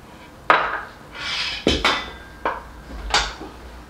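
A heavy pan clanks and scrapes as bean salad is plated, with several sharp metallic knocks and a softer scraping sweep between them, close by and with no talk.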